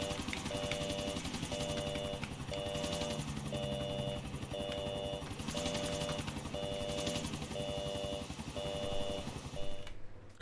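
A helicopter in GTA: The Ballad of Gay Tony, with a steady rhythmic rotor chop and a repeating electronic warning beep pulsing over it, loud and continuous until an abrupt cut near the end.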